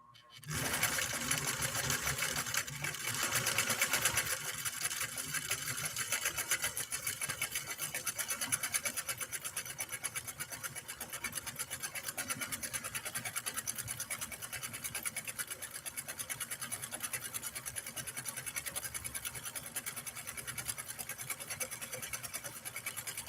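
A Husqvarna Nordic automatic sewing machine stitching a cam pattern runs steadily and close, a dense continuous whirring rattle of needle and motor that starts abruptly and holds at an even level throughout.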